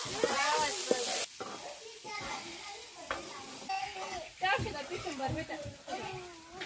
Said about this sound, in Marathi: हे सर्व चांगलं मिश्रण मिक्स करून घ्यायचं आहे